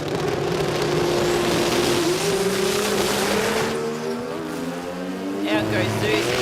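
Speedway racing car pulling away at a Garrett Sydney Jamboree testing session, engine revving hard and tyres rattling and scrabbling, loud and close, then fading as it moves off.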